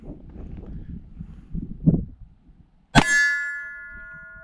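A single handgun shot rings on a steel target: one sharp crack followed by a long, clear metallic ring that fades slowly, after quieter rustling and shuffling sounds.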